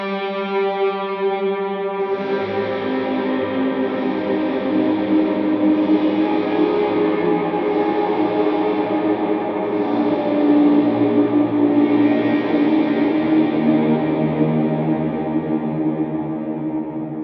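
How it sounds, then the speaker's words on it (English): Electric guitar playing the outro of Away in a Manger through an HX Stomp effects unit, chords swelling in softly and blooming with heavy reverb, echo and chorus into a lush, sustained ambient wash, alone without speech. "with all the effects, that last half and then that outro swell will sound like this"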